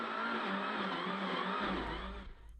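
Mitsubishi rally car stuck off the road in slippery mud during a rally stage, its engine revving hard and steady with a harsh roar, easing off briefly near the end.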